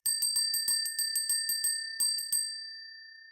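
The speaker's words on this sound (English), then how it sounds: "Ring that bell, girl." A small hand bell rings about a dozen times in quick, slightly uneven strikes, each bright ding overlapping the last before a final ringing decay into silence.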